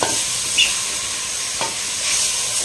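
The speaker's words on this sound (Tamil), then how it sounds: "நல்லா வதங்கிட்டு இருக்குதுங்க" Coriander stems sautéing in a pan for a green masala, a steady close sizzle with a few soft scrapes of stirring, no voices.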